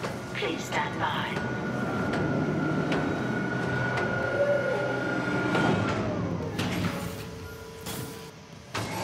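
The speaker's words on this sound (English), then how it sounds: "Replacing damaged tram car." A tram car in the video game Dead Space rumbles along with a steady mechanical drone and a sustained tonal whine, fading and shifting near the end.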